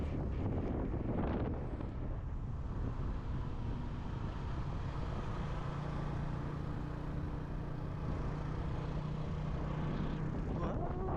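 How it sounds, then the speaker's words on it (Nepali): Strong wind buffeting the microphone outdoors at a lake in Korea, a continuous roaring rumble with gusts that rise and fall, loud and close throughout. "आज हावा सिरसिर चलिरहेछ।"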